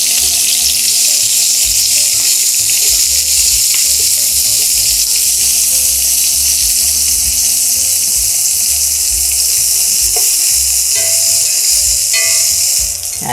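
Onion frying in two spoonfuls of oil gives a steady, loud sizzle with a bright hiss that holds unbroken the whole time, with a few faint clinks near the end.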